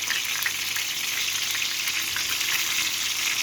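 Fish frying in a pan of hot oil, a loud continuous close sizzle and crackle with steady bubbling throughout, no voices.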